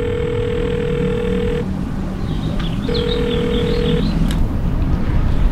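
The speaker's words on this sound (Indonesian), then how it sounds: "Jenggo, telepon si Badrul dulu" A phone line gives two long ringback tones with a gap between them during a call, over a constant background hum and some faint chirps.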